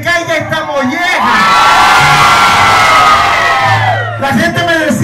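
Live audience shouting and cheering in a Venezuelan Zulia-style show, a loud sustained crowd roar swelling for several seconds, with talk from a speaker before and after it.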